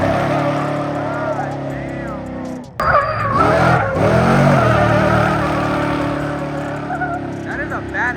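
Truck cornering hard on desert ground, tires skidding and engine roaring up close, with a loud squealing slide in the middle of the run while people talk nearby.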